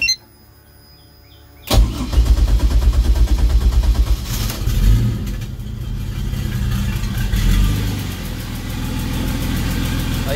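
A Pontiac Fiero engine cranks and catches after a quiet start, then settles into a loud, steady idle with a brief rise in revs partway through.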